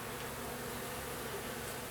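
Honey bees buzzing during a fall hive inspection, a steady, continuous hum of many insects close by, with no voices.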